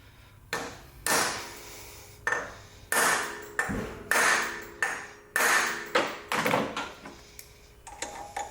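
Hammer blows strike a stuck metal part in a repair shop while someone tries to knock it free: about a dozen loud, ringing whacks at an uneven pace, each with a metallic ping that fades before the next strike.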